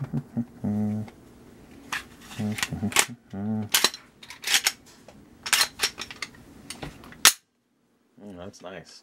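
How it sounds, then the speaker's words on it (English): An early third-generation two-pin Glock 17 pistol being put back together gives a run of sharp metallic clicks, snaps and clacks at close range, spaced irregularly, with a few brief murmured voice sounds between them. "let's put this gun together."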